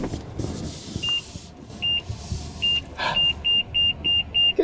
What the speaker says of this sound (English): We got park sensors on.